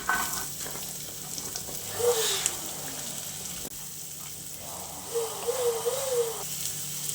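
Onion sautéing in a pan, a soft continuous frying hiss with occasional stirring, close and fairly quiet, with no speech.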